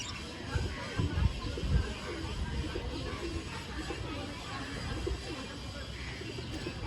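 Pigeons at a shop coo in low, repeated throaty bursts near the start, then softer murmurs continue amid a bustling background with faint voices.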